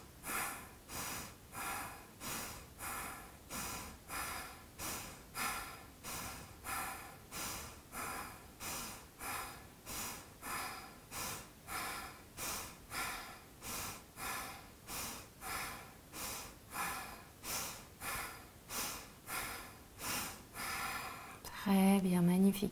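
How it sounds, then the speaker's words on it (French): Rhythmic dynamic yoga breathing, the belly inflating and deflating with each cycle: steady, forceful breaths repeating about once per second for over twenty seconds, close and clear, with a brief louder burst at the very end. "on va revenir à notre respiration dynamique qu'on a fait en début de séance"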